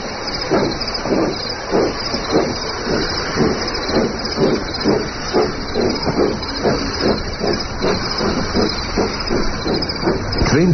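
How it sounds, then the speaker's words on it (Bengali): A steam train pulls away from a station platform, with loud steady hissing steam over a rhythmic chuffing that repeats evenly throughout. "ট্রেনটা হুইসেল বাজিয়ে আস্তে সুস্থে চলে গেল।"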